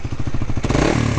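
A motorcycle engine revs hard up close with an aggressive, throaty roar, pulsing rhythmically before rising into a denser, louder growl, with no talk over it.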